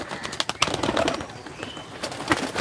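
Madrasi pigeons of the Chennai breed in a loft, giving soft, throaty coos and scattered clicks and flutters close by, in irregular bursts across a couple of seconds.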